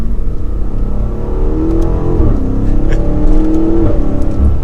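A 2022 BMW M8 Competition Gran Coupe accelerates hard from the driver's seat, its engine note climbing in pitch through gear changes, loud and close with a rising whir.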